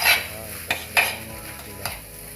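A spoon scrapes a fresh corn chivda mixture around a kadhai in four short, distinct strokes. The strokes sound close and crisp over a faint steady sizzle.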